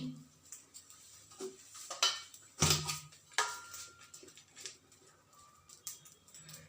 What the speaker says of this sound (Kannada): ಅರ್ಧ ಟೀ ಸ್ಪೂನು ಮೆಂತ್ಯ, 1 ಸ್ಪೂನು ಸಾಸಿವೆ ತೊಗೊಂಡು ಅದನ್ನು ಹುರಿತಾ ಇದ್ದೀನಿ.